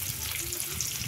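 Paneer cubes fry in hot oil in a steady, close, moderately loud sizzle that runs unbroken for the whole second.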